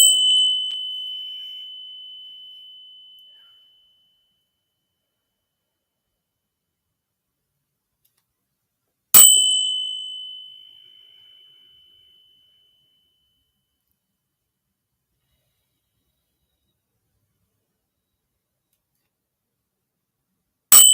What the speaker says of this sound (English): 3 cleansing bell rings.